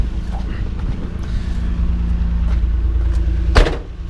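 Nissan R32 GTR idling low and steady as it rolls out, a deep rumble running throughout, with a sharp clunk near the end, heard close by.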